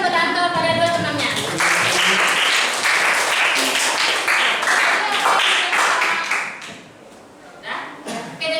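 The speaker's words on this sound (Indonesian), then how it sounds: "jadi berikan tepuk tangan kepada dua temannya" Secondary school students in a classroom give a round of clapping for two classmates, dense and loud for several seconds before thinning out, with some voices mixed in.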